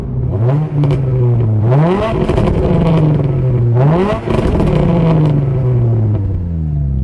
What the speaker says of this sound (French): Ça fait longtemps que j'ai pas entendu un moteur qui chantait comme ça.